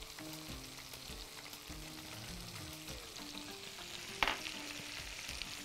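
Sliced zucchini sautés in a pan with garlic powder and thyme, a steady close sizzle of frying broken by a few stirring scrapes and one sharp clatter near the end, with no voices.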